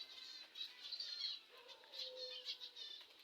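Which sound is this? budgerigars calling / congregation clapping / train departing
budgerigars calling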